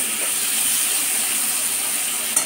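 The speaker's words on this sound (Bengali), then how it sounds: "তরকারিটা ফুটছে" Shrimp and potato curry (chingri aloo dum) boils in a pot during village-style Bengali cooking, giving off a steady, loud bubbling hiss that runs without a break and with no talk over it.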